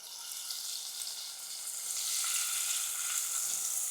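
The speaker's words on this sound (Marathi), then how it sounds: "लसूण थोडी अशी परतून घेतली बारीक चिरलेला असा कांदा टाकायचा आहे" Finely chopped onion fries with crushed garlic in a pan, giving a steady, close sizzle that swells slightly toward the end, with no talking.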